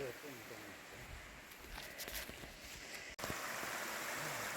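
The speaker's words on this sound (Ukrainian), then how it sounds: "Ось ще водоспадик." Small waterfall in a mountain setting, a steady broadband rush of flowing water that stays continuous throughout, briefly cut by a short dropout near the end before resuming.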